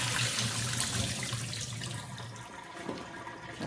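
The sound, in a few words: water being poured off while cooking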